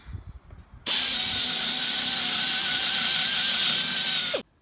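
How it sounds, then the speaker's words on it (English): Pneumatic air tool running on a Duramax truck during front-end work: after a brief quiet moment, one loud, steady high-pitched air-driven whir holds continuously for about three and a half seconds, then cuts off abruptly. "I decided to make his life a little easier. I got out the air tools."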